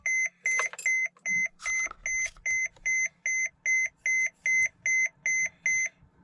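Dashboard of a Mercedes Sprinter van chimes during an oil service reset: a clear series of about fifteen evenly spaced electronic beeps, steady and close, with faint handling noise behind.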